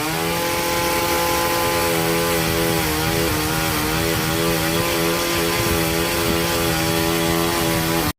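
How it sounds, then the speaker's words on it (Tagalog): A small grass cutter trimmer being used to cut through a tree, its engine whining loudly and steadily at close range with slight pitch wavering as it bites into the wood, no voices over it. "Ang tawag yan, mga grass cutter, pero ginagamit pamputol ng puno."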